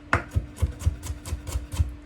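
A knife cuts German radish into thin julienne strips on a board. About eight crisp chops land at a quick, even pace, close and moderately loud, with no talking.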